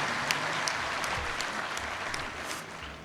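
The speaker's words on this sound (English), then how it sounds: "May I request a huge round of applause." Audience applause fills the hall to open the Sonzal 2022 youth festival: a steady, dense burst of clapping from a large crowd, sustained evenly throughout with no pause.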